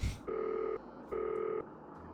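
A phone call is dialed in a video game: two steady electronic ringback tones, each lasting about half a second, separated by a short pause, clear and fairly close.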